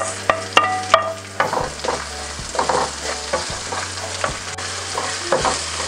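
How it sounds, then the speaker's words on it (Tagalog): Onion tipped into hot oil over golden-brown garlic sizzles in a pan, with sharp scraping stir strokes and clinks of a spatula at irregular intervals over a steady close frying hiss. "ilalagay na po natin itong ating sibuyas"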